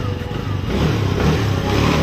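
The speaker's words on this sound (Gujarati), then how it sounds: "આમાં ગાડીના એન્જિનમાં અવાજ આવે, જરાક જો." A petrol vehicle engine idling at a truck repair shop while its noise is checked, a steady, fairly loud rumble running throughout, with people talking over it.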